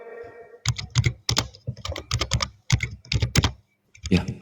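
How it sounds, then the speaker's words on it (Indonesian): Quick bursts of typing on a computer keyboard, sharp clicks in uneven clusters with a brief pause, close and clear, with no voices over it. "Ya, ngetik ya."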